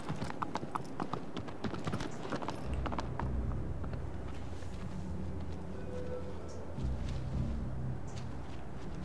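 Steady clip-clop of horse hooves in Shadow of the Colossus on PS4 Pro, a brisk close rhythm that shifts into a faster gallop over a low rumble of game ambience.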